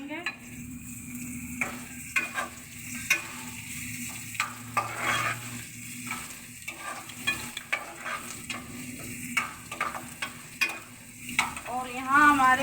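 Onions browned in a pan with garlic just added sizzle steadily, with eggplant frying alongside for a crispy Afghani dish, broken by frequent scraping and stirring clinks of a utensil against the pan, close up.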